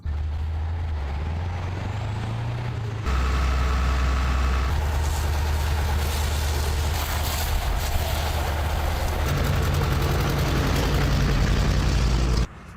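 Fire trucks delivering water to a fire site idle and rumble close by, with a deep engine drone, a hiss like an air brake, and the engine growing louder partway through before it cuts out at the end.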